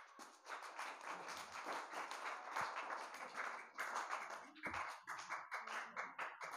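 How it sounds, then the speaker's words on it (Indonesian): A group at an Islamic school speech-practice gathering claps in a quiet, roomy space, uneven bursts of hand claps with a few louder individual slaps standing out. "tepuk tangan dulu"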